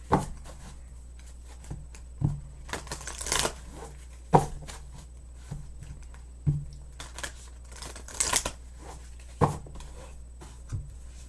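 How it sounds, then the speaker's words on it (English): A new, stiff Moonology Manifestation oracle deck is shuffled by hand, giving repeated papery riffles and slaps in uneven bursts, close up over a low steady hum, with no voice. "these cards are still a wee bit stiff because they're still new, so they don't really spread out that great"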